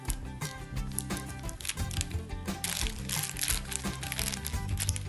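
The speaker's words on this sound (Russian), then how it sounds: "Кому-то очень нравится, как шуршит пакетик." A plastic bag crinkles and rustles loudly up close as a kitten plays with it, crunching in quick irregular bursts, with faint background sounds.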